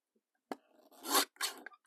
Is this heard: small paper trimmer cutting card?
yes